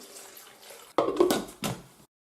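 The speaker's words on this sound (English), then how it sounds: "And then next there's around about a pint of water." About a pint of water pours into a blender for a nettle and papaya green smoothie, a short, close splashing gush of roughly a second that ends abruptly in silence.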